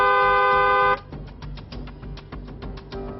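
A single car horn honk sounds as a sustained, bright, buzzy blare for about a second, then cuts off abruptly into a quieter rhythmic background.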